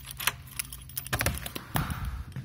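A bunch of house keys jangles and clinks in quick irregular bursts, close and bright metallic rattling with no talk over it.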